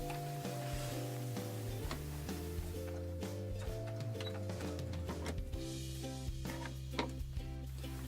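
A sewing machine runs a few stitches across fabric bias binding along a diagonal line, giving a steady mechanical hum with rapid needle ticking, close and quiet, with no talking.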